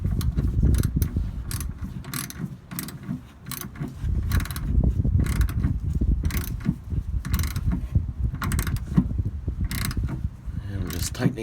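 A ratchet tightens the fuel filter on an Onan RV 4KY gas generator, giving close, continuous irregular clicking and grinding with metallic ratcheting throughout.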